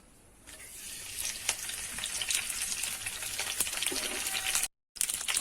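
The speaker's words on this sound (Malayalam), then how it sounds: "ഇനി ഇത് നന്നായി ഒന്ന് ചൂടാവുമ്പോൾ അതിലേക്ക് കുറച്ച് കറിവേപ്പില ഇട്ട് കൊടുക്കാം." Curry leaves dropped into hot coconut oil set off a sizzle that swells into a bright, crackling hiss with scattered pops, close and continuous apart from a momentary gap, with no speech.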